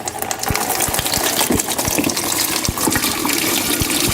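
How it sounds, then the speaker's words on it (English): Battery solution pours out of a battery into a bucket in a steady, splashing gush, with small irregular spatters and drips over a continuous rush of liquid, close and fairly loud, with no talking. "we remove our caps once again, and then we're going to dump the solution in our bucket"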